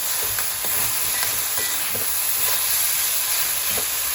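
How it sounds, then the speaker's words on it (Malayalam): Spices and onions fry slowly in a small pressure cooker for biryani, a steady close hiss and sizzle with faint stirring taps and no talking. "നന്നായി ഫ്രൈ ആയിക്കോട്ടെ"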